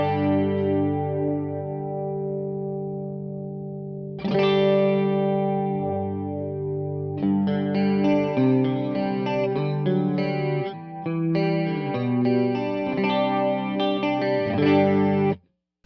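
Electric guitar through a chorus modulation effect on a Fractal FM9 modeler: a sustained shimmering chord, then a fresh strum, then a run of picked notes, all warbling with wide chorus and no talking.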